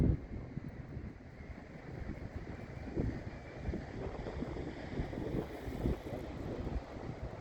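Wind gusts buffet the microphone on a stormy, grey coast at Stonehaven, a rough, continuous rushing with surges and faint wave noise beneath, no voices.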